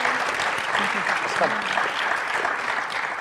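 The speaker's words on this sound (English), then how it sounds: "definitely wanted to give you all a round of applause" Audience applause fills the room at the close of a conference panel on venue sourcing trends, a steady wash of many hands clapping with some voices mixed in throughout.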